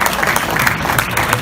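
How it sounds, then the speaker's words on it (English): Audience applause at a talk, a steady dense clapping that fills the whole moment at close range with no break and no voices over it. "Hey, give Ron a round of applause."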